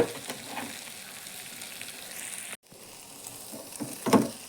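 Softened vegetables fry and get stirred in a pan, a steady sizzle broken by a brief silent gap, then louder scraping and a clatter of the spatula near the end, close and without speech.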